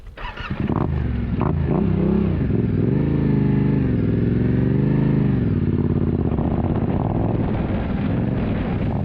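A Yamaha Ténéré 700 motorcycle rides along hilltop ridges, its engine droning loud and close with rising and falling revs, mixed with buffeting wind noise on the microphone throughout.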